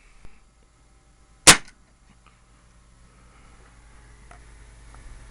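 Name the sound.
revolver gunshot during chronograph test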